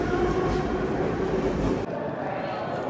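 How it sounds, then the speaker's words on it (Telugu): Old Soviet-style metro train in Uzbekistan rumbling along underground, a loud steady roar of wheels and carriage noise that drops slightly near the end as the train slows. "old Soviet union trains metro మొత్తం ఓల్డ్ సోవియట్ స్టైల్లో"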